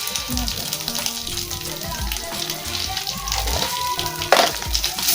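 Water hits a pan of frying turmeric, chilli, cumin and coriander powder, giving a close, rushing hiss and crackle with one sharper splash burst near the end.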